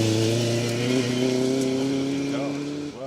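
A Mark I Ford Escort rally car is driving a stage of the Welsh Rally Championship. The engine note revs hard in one sustained, rising pass that fades near the end, with commentary spoken over it.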